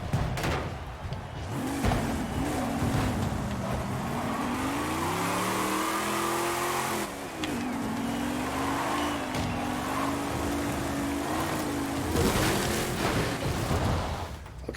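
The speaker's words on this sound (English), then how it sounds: "now I'm just having a little too much fun rolling over my Jimmy" A car rolls and tumbles in a video game, with a continuous engine drone whose pitch rises and falls, broken by sharp impact crashes at the start and end.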